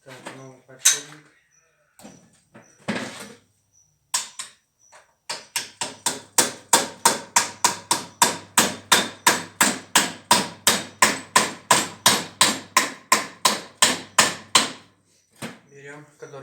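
A new bearing is driven into a Volvo truck cab mount with about two dozen evenly spaced, ringing metal hammer blows, preceded by someone speaking and a few scattered knocks.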